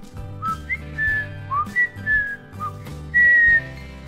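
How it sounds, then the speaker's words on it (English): A person whistles a short, lilting tune of a few clear, sliding notes with brief pauses between phrases, close and fairly soft, with a faint low background hum. "It allows me to whistle."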